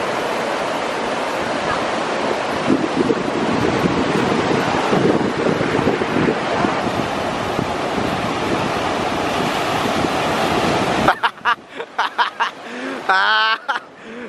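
Ocean surf at Torrey Pines beach crashes and rolls in a loud, continuous wash mixed with wind buffeting the microphone, then cuts to quieter moments with brief voices near the end.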